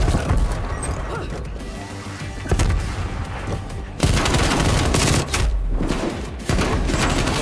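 Close-range automatic gunfire from an AK-74u in the video game Call of Duty: Black Ops Cold War comes as loud, dense bursts of shots with heavy impacts and crashes, continuous and harsh.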